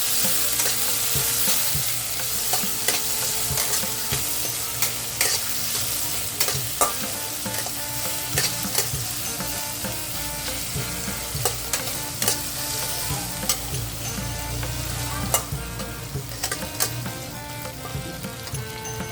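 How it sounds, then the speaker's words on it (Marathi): Tomato, cumin and mustard seed tempering roasting on a low flame, a constant close sizzle with frequent clicking spoon strokes and scrapes against the pan throughout, no talking. "हे सगळं मिश्रण सारखं"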